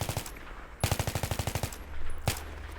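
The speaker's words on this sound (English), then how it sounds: "Now I'm going to couple that with firing in, 10-round bursts or so." Automatic rifle fired in short bursts in Battlefield 3, two clusters of rapid, loud shots in rhythmic succession with a brief pause between them and a single shot near the end.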